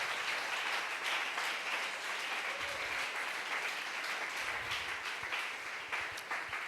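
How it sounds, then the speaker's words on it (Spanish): Sustained applause from a large church congregation, steady and dense throughout, echoing slightly in an indoor space. "Si lo va a aplaudir, apláudalo"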